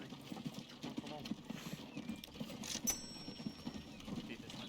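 Horses clip-clop in Transport Fever 2, a continuous rhythmic patter of hooves with a brief neigh, under a voice talking throughout.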